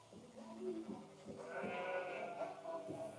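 Sheep bleat in a field at shearing time, with a couple of wavering, fairly faint calls overlapping against quiet farm background.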